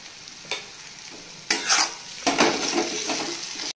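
Capsicum and ground spice paste with ginger, garlic, onion and tomato are frying for chilli paneer, sizzling steadily in a pan, broken by a few bursts of stirring and scraping that grow louder toward the end.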